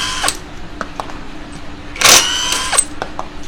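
Power drill backing screws out of an engine head, short mechanical whirring bursts with a louder, longer run near the middle, close by and with no talk over it.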